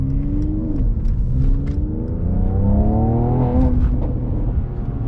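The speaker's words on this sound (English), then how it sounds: "the exhaust note got quite a bit louder on the inside" Twin-turbo 3-liter V6 exhaust of a 2017 Mercedes-AMG C43 4Matic heard from inside the cabin as it accelerates hard, a loud steady engine drone with rising pitch sweeps through the gears and no talking.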